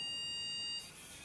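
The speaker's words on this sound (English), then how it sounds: "When K210 detects a face without a mask, the buzzer will sound an alarm" The buzzer on a K210 vision module robot car sounds a steady high electronic alarm tone for under a second when it detects a face without a mask, then cuts off into faint hiss.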